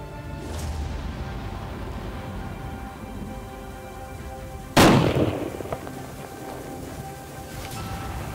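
A single sharp rifle shot cracks out during a Montana elk hunt outdoors, loud and abrupt, with a short echoing decay over a steady background of wind and ambient noise.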